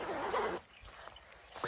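A quick rasping zip of a rain jacket's large underarm pit zip, lasting under a second, followed by near silence.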